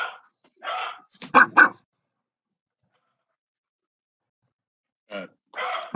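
Dog making a few short, gruff bark-like grunts close by, spread across the stretch with long silent gaps between them.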